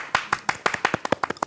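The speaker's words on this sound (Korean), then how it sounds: "시타의 첫 여성 게스트 박수 한번 칠까요?" Studio clapping to welcome the first female guest on the Korean talk show SUCHWITA: about nine crisp, close hand claps in a quick, slightly uneven rhythm, with no voices over them.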